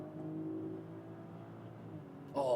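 A BMW X5 xDrive40i's engine in Sport Plus mode during a highway merge, a steady rising hum of revving under cabin road noise, swelling louder near the end.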